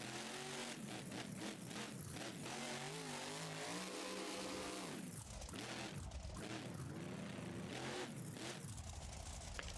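Loud, continuous monster truck engine revving in BeamNG.drive, with rising and falling pitch and several sharp throttle surges, with no talking.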